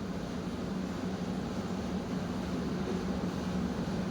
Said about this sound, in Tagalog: Mas malakas pa yung tunog ng aircon.